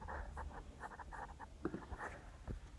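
A passphrase is typed on a computer keyboard, with soft, quiet key taps coming in irregular short bursts and clusters at close range.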